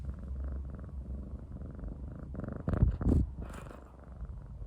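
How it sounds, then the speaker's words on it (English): A cat purrs close up in a steady, rumbling rhythm of breathy pulses, with a brief louder rustle or shuffle partway through. "Purring a lot. Can you hear her?"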